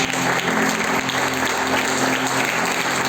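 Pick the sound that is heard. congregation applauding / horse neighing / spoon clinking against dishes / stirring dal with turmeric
congregation applauding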